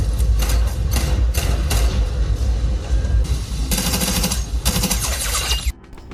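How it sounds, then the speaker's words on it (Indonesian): Loud, chaotic gunfight in a Mission Impossible film, with rapid bursts of automatic fire, sharp shots and heavy thumps layered over booming action score, cutting off abruptly near the end. "terjadilah tembak-menembak di antara mereka"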